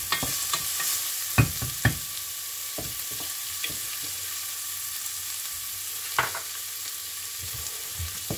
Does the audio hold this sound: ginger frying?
yes